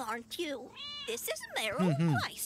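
Cat meows from the video game Lake rise and fall several times, mixed in with a character speaking over them at close range.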